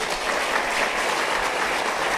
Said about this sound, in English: And you can hold your applause to the end.